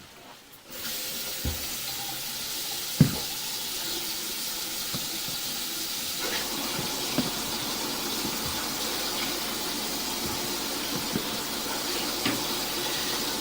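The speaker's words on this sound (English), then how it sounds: "We're going to go ahead and start the water running again." Steady running water flowing continuously through a drain system during root removal with chain knockers, a soft even hiss with occasional small clicks and knocks, moderately faint and uninterrupted throughout.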